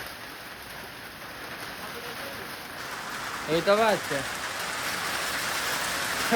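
Soft, steady rain patter hisses in the background during a summer storm while a person briefly speaks midway.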